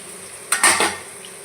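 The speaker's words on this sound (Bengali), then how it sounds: "পনিরগুলো আমি এখন নামিয়ে নিচ্ছি" Fried paneer pieces lifted out of a pan of hot oil, heard as a short burst of scraping and a faint sizzle, close up, lasting under a second in a quiet kitchen.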